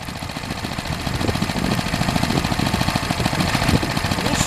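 An old junk tiller's small engine idling, a steady close chugging rumble with a rapid regular pulse that grows slightly louder after the first second and runs on with no talk.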